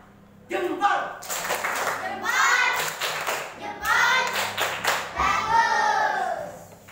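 Elementary schoolchildren in a classroom perform a 'tepuk jempol' clapping routine, chanting in unison while sharp claps punctuate the rhythm, close and lively, with children's voices dominating between the claps.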